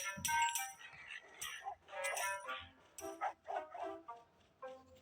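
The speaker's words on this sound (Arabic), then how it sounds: "الكلب يعض." Dog barking in a video game, a string of sharp, close barks and yips in irregular bursts, fairly loud against quiet gaps.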